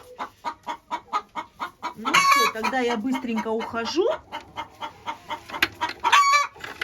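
Egg-laying hens cluck in a rapid, rhythmic series, rising into a longer squawking call midway, with another hen calling near the end; a person speaks briefly over the birds.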